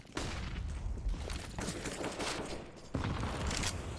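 Rapid gunfire sprays during a Counter-Strike match, dense overlapping shots rattling continuously with a louder renewed burst near the end.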